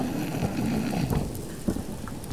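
Rain in the survival video game Subsistence falls as a steady, broadband wash with low rumbling underneath and a few soft thuds, heard without any talk.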